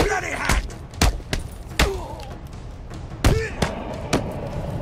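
Batman breaks out of cuffs in Batman Arkham City on PS4, a series of sharp heavy thumps and metallic snaps struck in uneven succession, close and loud, mixed with grunting voices.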